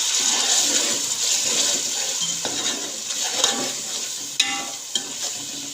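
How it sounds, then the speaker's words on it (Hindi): Water splashes into a hot pan of frying spices, with a steady sizzle and bubbling, a few clinks of a utensil against the pot near the end. "इसमें हम थोड़ा सा पानी डालेंगे।"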